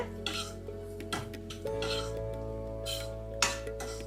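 Onions browning in a pan for methi malai paneer, with a faint sizzle beneath irregular metallic clinks and scrapes of a spoon stirring against the cookware, over a steady background hum.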